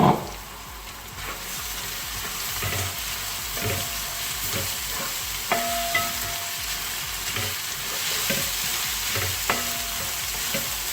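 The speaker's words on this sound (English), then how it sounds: "Now we can add all onions into it. Chopped onions." Chopped onions fry in a pan for Kuttanadan duck curry with a steady, close sizzle, broken by repeated scraping stirs and a couple of brief metallic rings against the pan.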